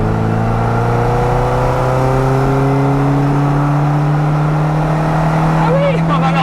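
A Mini Cooper Innocenti 1300 engine revs high and climbs steadily, a loud close rising drone with strong harmonics that stays continuous throughout.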